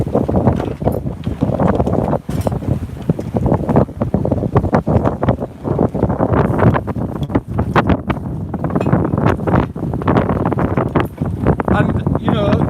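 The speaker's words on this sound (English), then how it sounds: "The wind." Strong wind buffets a boat at sea during a sudden storm close to land, roaring and gusting continuously across the microphone with rattling, knocking bursts while someone talks over it.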